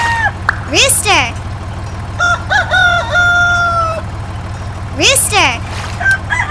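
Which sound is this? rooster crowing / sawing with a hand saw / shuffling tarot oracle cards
rooster crowing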